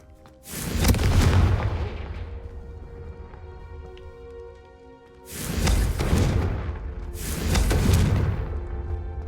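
Booming explosions from the Confringo spell cast in the video game Hogwarts Legacy, three heavy blasts with long rumbling tails, the first standing alone and the last two coming close together.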